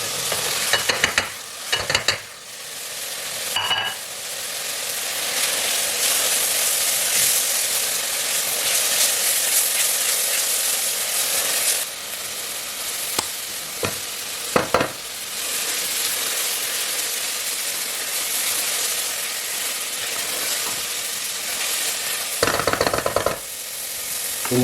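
Masala fries in ghee for degi-style aloo gosht, a loud, steady sizzle and hiss close by with occasional clinks and scrapes of a spoon stirring the pan, and no voices.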